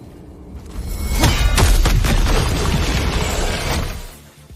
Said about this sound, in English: you can break any object with these glowing gold cracks on it by throwing the spear at it, and then pressing triangle to detonate it